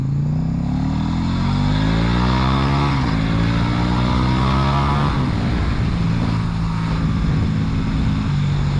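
A KTM RC8 motorcycle engine revs hard and high, pitch climbing and dropping repeatedly as it's over-revved, loud and close throughout.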